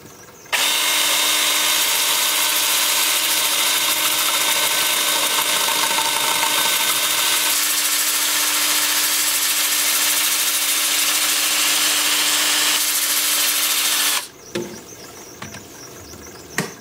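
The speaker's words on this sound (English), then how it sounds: "I'm going to start sanding with the lathe in reverse." Sanding a maple bowl or platter on a wood lathe running in reverse with a 2-inch 80-grit disc, a loud steady power-tool whine with continuous abrasive rasp for about fourteen seconds, then stopping abruptly.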